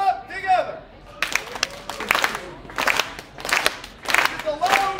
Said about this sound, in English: Everybody clap together.